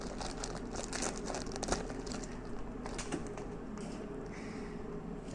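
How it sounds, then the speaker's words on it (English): Plastic mushroom grow bags cut through the center of their filter patch and handled, giving close crinkling and crumpling rustles with small taps and snips throughout, over a steady room background. "I'm cutting in the center of the filter patch on these bags"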